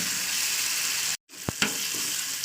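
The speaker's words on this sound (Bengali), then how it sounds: "তো আমি জিনিসটাকে তেলে ভালো করে মাখিয়ে নেবো, মানে ভাজা করে নেবো" Ginger garlic paste with cumin and turmeric sizzles steadily in hot oil, a dense close hiss that briefly cuts out and returns with a couple of soft stirring clicks; no one speaks.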